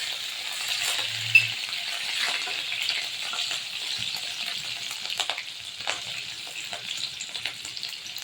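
Curry leaves and green chillies fry in hot oil for bhindi fry, a steady close crackling sizzle running throughout without speech.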